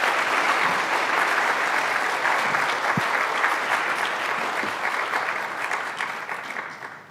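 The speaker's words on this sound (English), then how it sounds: "One more round of applause" Steady applause from a symposium audience rolls on evenly as a dense wash of claps with a single sharp knock partway through, then gradually tapers off at the end.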